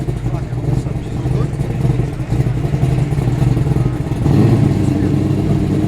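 Old school Ford muscle car at a Sydney car show, engine rumbling and revving loudly up close, a steady deep throb that swells louder near the end, no voices over it.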